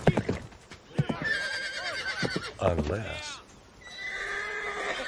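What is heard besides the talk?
horse neighing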